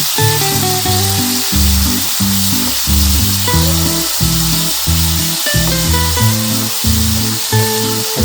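Large prawns fry in hot oil with a loud, steady, unbroken sizzle that runs the whole time beneath background music.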